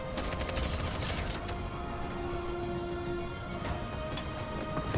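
Gunfire in the video game Detroit: Become Human, a dense, continuous rattle of rapid shots with sharper cracks in the first second and a busy, loud battle bed throughout.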